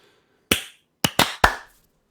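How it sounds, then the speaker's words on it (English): Hand claps used as an audio sync check on a podcast, four sharp close claps, one alone and then three in quick succession, with no talk over them. "I think we need to do another clap check just to get all in sync"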